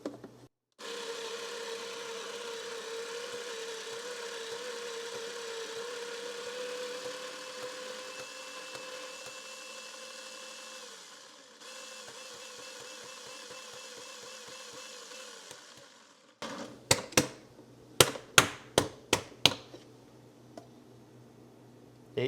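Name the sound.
coffee grinder grinding Black Lotus Colombian espresso beans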